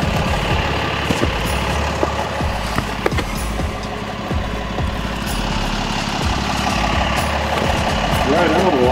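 An off-road truck's engine rumbles and idles low and steady as it is driven out after a recovery, loud and near, with people talking over it.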